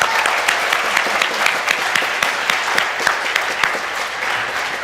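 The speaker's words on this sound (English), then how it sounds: "let's give them a round of applause so that they can hear it." A church congregation claps in a dense, sustained round of applause for the tech team at the back, loud and close, with a few voices faintly mixed in.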